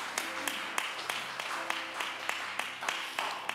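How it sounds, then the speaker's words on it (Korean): A church congregation claps together in a steady rhythmic beat, sharp evenly spaced claps carrying through the room at moderate distance. "우리 하나님께 영광의 박수 올리겠습니다."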